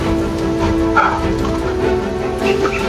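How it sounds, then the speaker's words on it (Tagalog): Dogs bark repeatedly in a video game, loud and close, with quick yips and whimpers over a steady background hum. "May mga aso"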